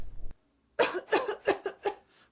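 A person coughs in a quick series of four close harsh bursts following a brief noise, on an old Brazilian radio-style cold remedy advertisement.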